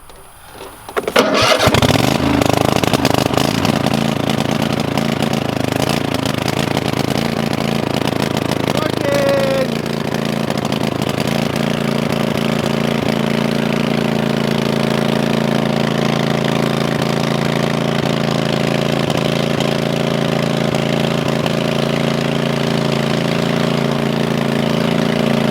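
A farm engine cranks and catches after a brake and choke check, then settles into a steady, loud idle that runs on unbroken for over twenty seconds.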